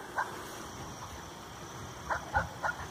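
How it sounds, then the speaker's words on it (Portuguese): Dogs bark at a riverside while people fish for armoured catfish with a slingshot. A single sharp bark comes first, then a quick cluster of three, at moderate distance with no voices. "Os cachorros tá brabo ali."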